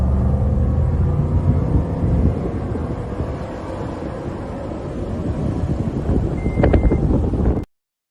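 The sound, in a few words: truck driving without a muffler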